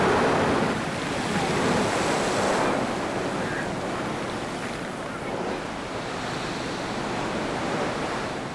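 Heavy ocean surf crashes against a rocky Omani coastline with blowholes, a continuous loud wash of breaking waves and spray mixed with wind noise, with no voices.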